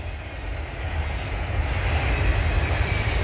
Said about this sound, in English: we got this last train coming behind. Here comes the end.